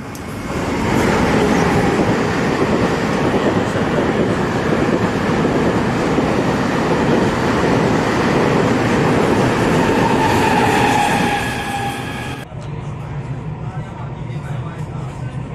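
A train pulls into a station in Taichung, Taiwan, a loud steady rumble with rising tones that drops off sharply near the end, leaving quieter platform ambience.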